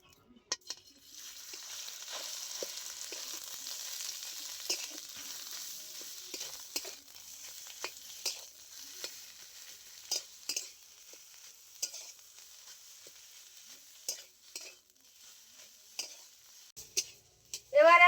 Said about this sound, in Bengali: এবারে আমি লঙ্কা ভাজা তেলের মধ্যে লাউ শাক বাটাটা হালকা নেড়ে নেব।